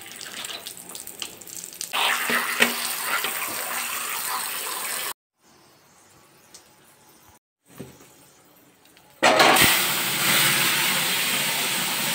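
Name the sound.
washing bata fish in water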